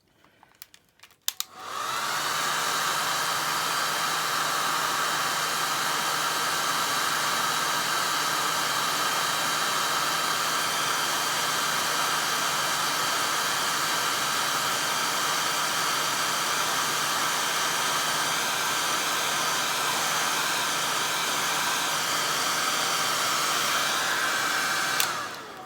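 A hair dryer runs steadily for about 25 seconds over an ink and wash painting, a loud, continuous airy whoosh with a faint whine that starts abruptly and holds evenly to the end, with no talking.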